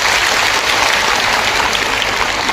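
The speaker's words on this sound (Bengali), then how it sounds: "প্রত্যেক মেম্বার যারা উপস্থিত আছেন একটা জোর হাততালি হোক তাদের জন্য।" Loud, dense applause from an audience honouring an ICDS team at an Anganwadi nutrition-month celebration in Malda, sustained clapping close by with no talk.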